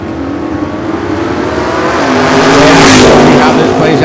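A Fiat Topolino drag race car accelerating down the strip, its engine rising in a loud, swelling roar that peaks and sweeps past, with a commentator talking over it.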